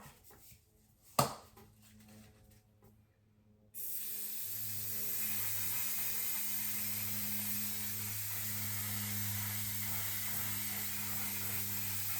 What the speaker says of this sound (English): this is a setting spray and primer in one